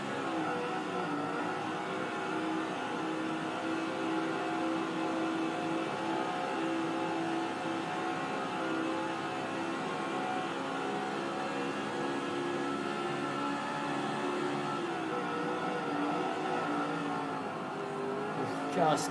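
NASCAR stock cars racing at Darlington in a racing video game, their engines holding a steady, loud droning roar throughout with no break.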